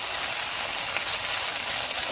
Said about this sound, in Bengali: এবারে আমি গোল চিপসগুলো ভেজে দেখাচ্ছি।